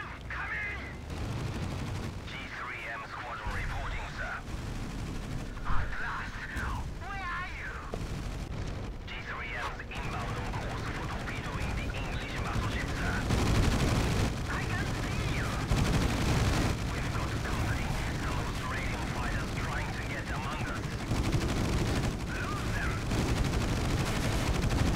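Gunfire striking ships in the naval combat game Battlestations Pacific during torpedo runs, with rattling bursts and booms rolling continuously beneath someone talking.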